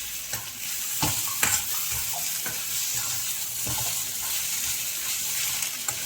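Vegetables sizzle steadily in a pan while a spoon scrapes and stirs, giving several distinct scraping knocks over a constant frying hiss.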